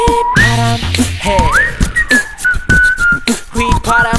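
A whistled melody from a song rises and glides in clear, loud phrases over a thumping beat and backing music, with no talking.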